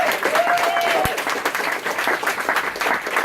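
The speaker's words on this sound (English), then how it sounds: "So big round of applause." Applause from a conference audience at a hackathon show-and-tell, steady clapping throughout with a brief whistle-like tone near the start and a single low thump.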